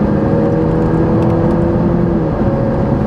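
A car with a 6-speed automatic transmission pulls steadily ahead, heard from inside as a continuous engine whir and road rumble, with the pitch shifting slightly as the gears change.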